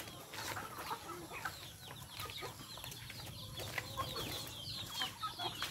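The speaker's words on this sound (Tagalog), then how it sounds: "Yan, mga manok." Backyard chickens cluck and chatter continuously, a flock of several birds close by with overlapping short clucks and calls, faint and without speech.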